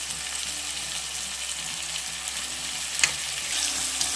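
Mutton frying with fried onions and ginger-garlic paste in a pan, a steady close sizzle with a short scrape or stir partway through, no talking.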